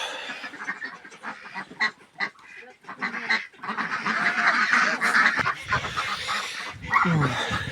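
A group of ducks quack and honk loudly and continuously, overlapping calls close by with some rustling between them.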